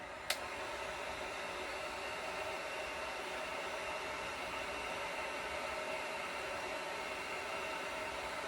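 A heat gun blows a steady, even roar while softening plastic to make a top for a quail feeder. It sounds close and constant, with a single small click near the start.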